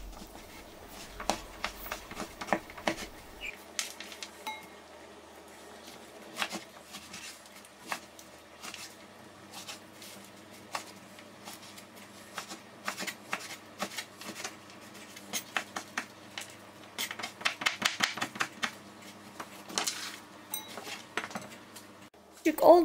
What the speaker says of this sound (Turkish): küçük kareler halinde ekmeklerimizi doğruyoruz